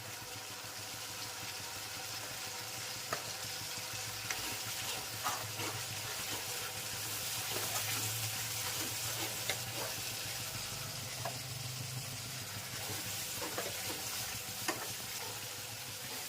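Tomato gravy for stuffed bottle gourd curry cooks in a pan with a faint, even sizzle and bubbling that continues without a break, with an occasional soft clink.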